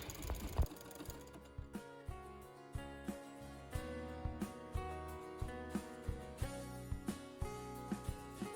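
A sewing machine stitches down the central seam of a pair of tights, its motor running in short bursts with a steady rhythmic needle clatter, close and clear, and each run stops and starts again.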